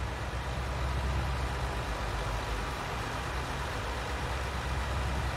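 Tractor pulling a trailer in Farming Simulator 19, a steady, broad engine drone with noisy hiss, constant and fairly loud, with no talking.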